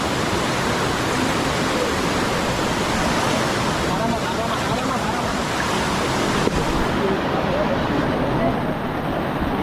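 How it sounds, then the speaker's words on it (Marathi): Fast-flowing river water on the Devkund waterfall trek rushes in a dense, constant roar close by, steady for the whole stretch. "इथं पाण्याचा फ्लो जास्त आहे."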